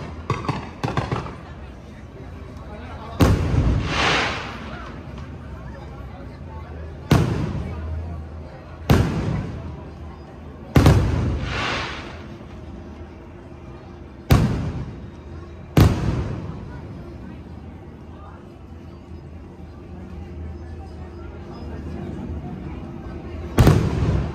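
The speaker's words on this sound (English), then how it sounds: "close this video out with a spectacular fireworks show here in Batuu" Fireworks show at Galaxy's Edge in Disneyland, with about seven sharp booming bursts at irregular intervals, each trailing off into a rumbling decay, heard over a background murmur of crowd sound.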